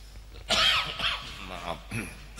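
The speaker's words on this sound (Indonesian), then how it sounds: "Nah ini ujian batuk ya." One harsh, loud cough bursts out close by, followed by a couple of smaller throaty coughs.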